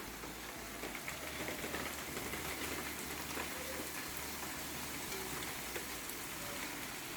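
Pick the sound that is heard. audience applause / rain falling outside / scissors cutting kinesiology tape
rain falling outside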